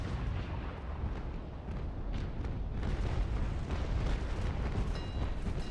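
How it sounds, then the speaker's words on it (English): A charged cannon broadside from a sailing warship in the naval battle game Naval Action, a loud rumbling roar of heavy booms rolling together over several seconds. "Charged shot."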